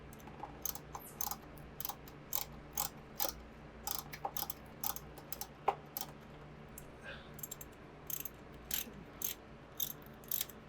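Metal wrench ratcheting in short bursts while working on the front fork of a 1985 Yamaha FJ1100 during a fork seal job, a steady series of close, crisp clicks over faint garage hum.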